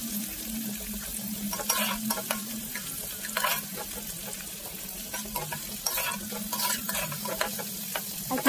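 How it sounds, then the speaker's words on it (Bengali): Onions and green chillies fry in mustard oil for a snakehead fish curry, a steady sizzle punctuated by repeated scraping stirs of a spoon against the pan, close and moderately loud. "পেঁয়াজটা যখন তেলে ভাজবে এইভাবে কন্টিনিউ নাড়বে যাতে সব পেঁয়াজটা একইভাবে ভাজা হয়।"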